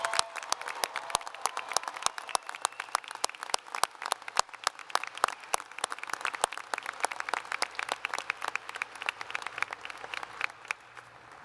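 Steady applause from a commencement audience for an honorary doctoral degree recipient at Washington State University Spokane, dense overlapping claps sustained throughout and easing slightly toward the end.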